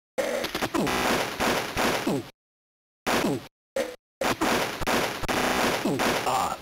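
Auto rifle fire from the Army Men video game: loud, dense rapid bursts of gunshots that rattle on for a couple of seconds, break off into short gaps of silence with brief spurts, then resume in a long sustained volley.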